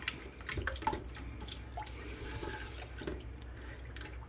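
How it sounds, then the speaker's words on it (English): A pot of noodles with meatballs being stirred roughly, water sloshing and splashing continuously up close with small drips and clatters. "when you're stirring rough and it starts splashing at you"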